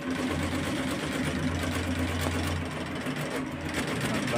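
A knitting machine works a design, giving a steady, loud mechanical hum with a continuous rhythmic whir that runs throughout with no pauses.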